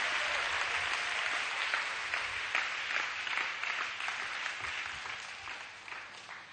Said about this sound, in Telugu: ताली बजाते हुए हम खुशी के साथ प्रभु की महिमा करें